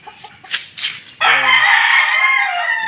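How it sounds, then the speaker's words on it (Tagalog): A rooster crows loudly and close by, one long sustained call following a few softer clucks from backyard chickens and a two-month-old chick. "Sisiw, 2 months pa lang yan mga backyard."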